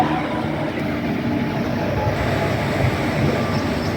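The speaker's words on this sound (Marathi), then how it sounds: "बघा रेल्वे कशी जाते." A train rolls past a railway crossing point, a loud, continuous rumble with rattling wagons close by that holds steady throughout.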